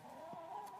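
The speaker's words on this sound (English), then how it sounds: "And there's the chickens." Chickens on a farm give a soft, brief cluck or two. The sound is faint and distant over a low steady outdoor hum.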